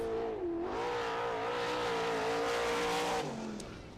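A sprint car screams past at full throttle on a qualifying lap at Wilmot, engine pitch rising and holding loud and near, then dropping away as it passes.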